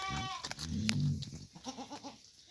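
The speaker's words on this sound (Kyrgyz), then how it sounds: "Эчки дагы бар." Goats bleat in a farm setting, a couple of close, wavering calls in quick succession, loud and clear with no talk over them.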